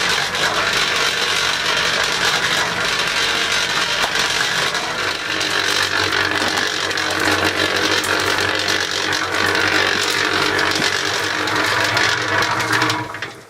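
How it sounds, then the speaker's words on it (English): Electric mixer churning a 30-litre batch of potting soil with perlite and fertiliser, a steady loud mechanical whirr with rattling and grinding that runs without pause throughout. "Turn the mixer on, give it a good old mix for about 5 or 10 minutes so it's all thoroughly mixed"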